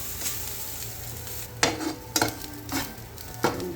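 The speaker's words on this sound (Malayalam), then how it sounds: "എന്നിട്ട് ഇതുപോലെ നമുക്ക് ഇളക്കി കൊടുക്കാം. നന്നായിട്ട് നമുക്ക് കറിവേപ്പിലയും കൂടി ചേർക്കാം." Grated coconut and curry leaves are stirred in a pan over a low flame while roasting chammanthi podi, giving several distinct scraping strokes over a soft, steady sizzle.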